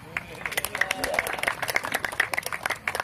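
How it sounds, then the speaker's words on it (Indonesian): A street crowd watching a magician claps in quick, uneven bursts close by while people talk over and between the applause. "Mana tepuk tangannya?"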